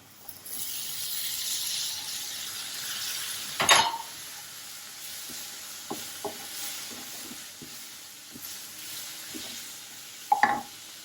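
Tomato, turmeric and chilli powder are stirred in a pan for tin fish masala, with a soft steady sizzle under occasional scraping strokes and a couple of sharper clinks of the spoon against the pan.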